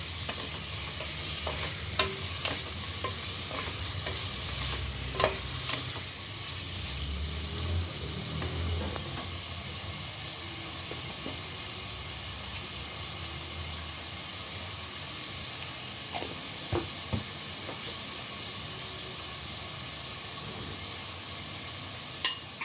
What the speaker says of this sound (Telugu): ఒకసారి ఆయిల్ అంతా కలిసేటట్టు కలుపుకొని ఉప్పు పసుపు యాడ్ చేసుకుంటాను